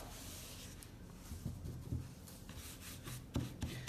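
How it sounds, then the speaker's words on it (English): A brush spreads clear wax over painted kitchen cabinets, a faint soft scrubbing of repeated short strokes, close and quiet. "the wax brush gets down into those corners really nice"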